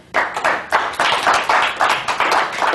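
A seminar audience at a speaker training event claps steadily in a dense, continuous burst of applause, fairly loud and close, with no voices over it.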